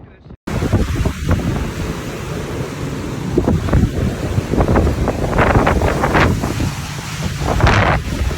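Tropical Storm Arthur's surf and strong wind at Galveston, Texas: a loud, constant roar of crashing waves and gusting wind buffeting the microphone, building in intensity with sharp surges.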